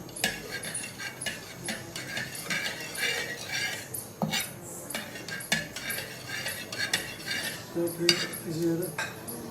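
A metal spoon scraping and clinking against a pan while semolina and egg halwa is stirred, irregular repeated strokes and taps, close and clear with no speech.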